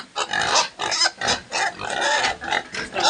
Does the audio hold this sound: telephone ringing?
no